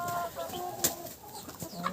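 Backyard hens and roosters, including a Faverolles hen, cluck and call close by in short bursts, with one sharp squawk partway through.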